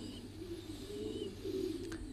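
Pigeons at a pigeon farm coo in a soft, low, continuous murmur, with a faint chirp near the end and no voices.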